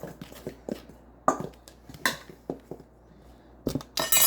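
Flour and baking soda are stirred together in a mixing bowl for chocolate chip cookies, the utensil clinking and scraping against the bowl. The taps come close and irregular, with a louder clatter at the end.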